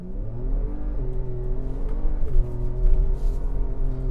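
A Ford Ranger Raptor engine in Baja mode revs steadily and loudly at close range, its tone rising and falling in stepped pitch changes with brief surges throughout.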